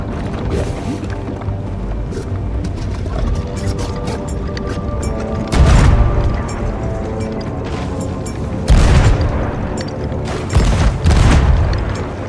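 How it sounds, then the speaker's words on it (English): Ship cannons boom in the Sea of Thieves video game during a Monkey Island adventure, three heavy blasts at about six, nine and eleven seconds rising over a steady rumble of sea and creaking ship ambience. "Fire the cannon!"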